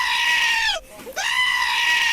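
A screaming goat sound effect: a loud, harsh, humanlike bleat that dips and breaks in the middle before rising again, heard alone and up close.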